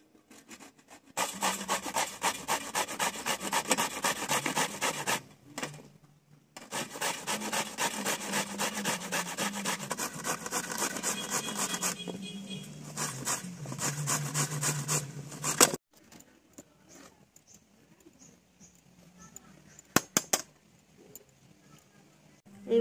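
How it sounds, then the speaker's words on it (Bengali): Bottle gourd rubbed back and forth against a hand grater, a continuous rhythmic scraping rasp close up that runs for long stretches, then breaks off into quieter handling noises near the end. "আমরা এই গ্রেটারের সাহায্যে এইগুলোকে এইভাবে ঘষে নেব।"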